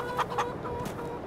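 Chickens in a farm pen in the video game Farming Simulator 22 give a few short clucks, a quick pair of soft bird calls followed by another, over a faint steady background.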